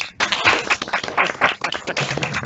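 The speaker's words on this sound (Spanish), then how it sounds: "entonces podríamos aplaudir al candidato por haber terminado la exposición" Scattered, uneven clapping comes from participants in an online doctoral thesis defense, a brief burst of fairly close hand claps through computer audio with no clear voices.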